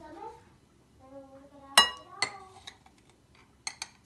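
Spoon clinking against a bowl while green chilli, tomato and coriander leaves are mixed: a few sharp, bright metallic taps in an irregular rhythm, close and fairly loud, with a faint voice murmuring briefly at the start.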